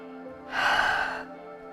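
A single deep breath during a traditional yoga sun salutation, a soft, airy exhale swelling for about a second and then fading, close to the microphone over a quiet background hum.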